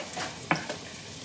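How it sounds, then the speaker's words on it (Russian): Bell pepper and onion fry in a pan, a soft steady sizzle with a couple of brief scraping stirs from a utensil, close and alone without talk. "Так, девочки, перемешиваем нашу поджарку. И пока болгарский перец с луком у нас обжаривается."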